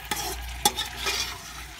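A spoon stirs a rice mixture with fried carrots and raisins in a pot over a soft sizzle, with two quick scraping knocks against the metal early on.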